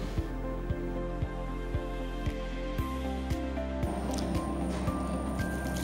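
A dough mixer kneads pizza dough on first speed, giving a steady low mechanical churn with regular soft slapping thumps about every half second, loud and close, with no talk.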